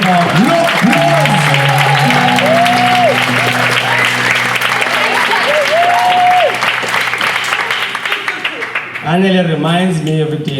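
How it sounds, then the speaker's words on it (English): An audience claps loudly and continuously at a spoken-word poetry session. Sustained tones and some voices sit under the applause, which fades near the end as a voice cuts in. "Round of applause for Anele Kose, round of applause."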